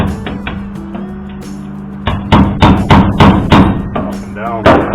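Hammer blows on rusty sheet metal during repair of an OBS Ford diesel six-door 4x4 truck, a series of sharp, loud metallic strikes in an irregular rhythm, following a quieter stretch with a steady low hum.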